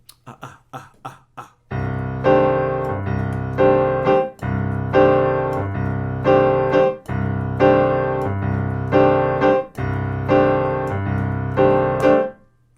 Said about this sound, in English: This is the jazz comp style that's going to prepare you to play in a chamber setting